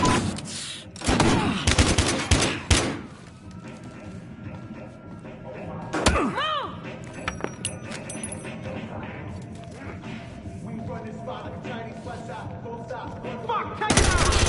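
Bursts of automatic gunfire and heavy impacts crack through a PS4 shootout game, loud and clustered at the start and again near the end, with a lull of lighter shots and effects between.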